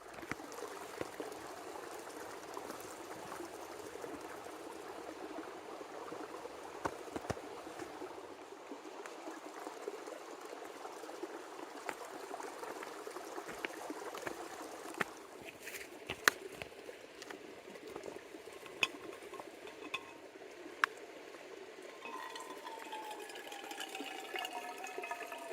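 A creek flowing at a dispersed motorcycle campsite: a steady, soft rushing and burbling of water that continues evenly throughout, with occasional faint clicks and no voices.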